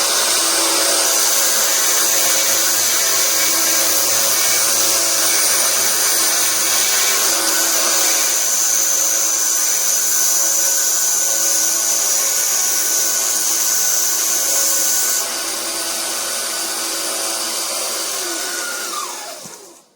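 Loud power sander fitted with its coarsest grit, grinding steadily and close by for about eighteen seconds before it winds down and stops.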